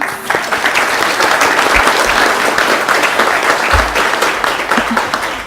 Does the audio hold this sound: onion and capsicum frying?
no